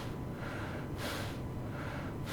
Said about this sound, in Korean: 이번엔 에어건 마스크를 착용하고 숨을 쉬어보면